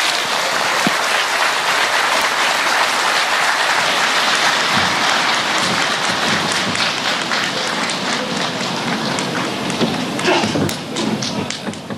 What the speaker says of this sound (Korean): 큰 박수로 단상으로 모시겠습니다.